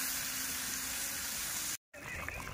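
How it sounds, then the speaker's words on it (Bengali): A meat curry gravy bubbles and simmers in a pot, a steady close wash of hissing, sizzling boil that cuts out briefly, then resumes with faint clinks. "ঝোলটা ফুটে গেছে"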